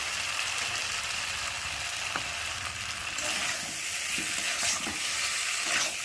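Green peas tumbling into hot oil with fried spice masala, a steady close sizzle and frying hiss with a few stirring scrapes and clinks.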